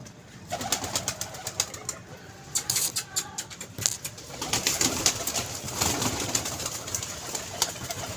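Domestic pigeons at a pigeon club coo repeatedly at close range, soft throaty calls overlapping with scattered rustles and light movement, no talking.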